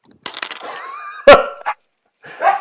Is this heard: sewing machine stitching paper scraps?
no